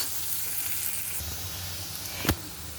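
Onion with a pinch of salt sizzles quietly and steadily in a pan, a soft continuous frying hiss with one brief louder clatter near the end, no talking.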